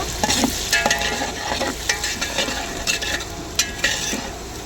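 Brinjal and tomato curry frying in a pan, with a steady sizzle under repeated scraping stirs of a spoon against the metal. The sound is close and fairly loud, with no talking.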